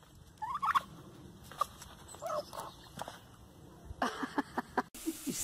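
A bird gobbles in a few short, throaty bursts at moderate distance, mixed with scattered thumps and other animal noises.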